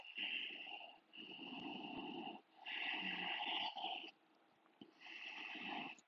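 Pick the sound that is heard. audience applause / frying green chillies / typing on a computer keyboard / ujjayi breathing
ujjayi breathing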